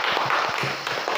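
An elementary school class clapping hands together in a classroom, a brief dense patter of claps at close range.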